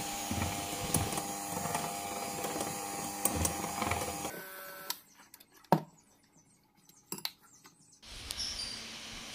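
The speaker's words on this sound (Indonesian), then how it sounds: "Kemudian kita mixer dengan kecepatan rendah." Electric hand mixer on low speed beating batter for a cassava tape and cheese sponge cake, whirring steadily with rattles for about four seconds, then stopping and leaving scattered clicks and taps.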